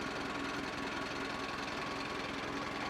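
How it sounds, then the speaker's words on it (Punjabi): An Arjun tractor in good condition idles steadily close by, a constant dense rumble with a fast, even low pulse and no change in pitch or loudness. "ਟਰੈਕਟਰ ਸਟਾਰਟ ਹੁੰਦਾ ਤੇ ਬਹੁਤ ਸੋਹਣਾ ਆਵਾਜ਼ ਆ ਟਰੈਕਟਰ ਦੀ"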